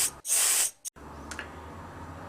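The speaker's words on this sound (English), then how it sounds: "Do make sure you shake the can well before spraying" An aerosol spray can gives one loud, steady hiss of about half a second, then a second, much shorter puff. A quiet room tone follows.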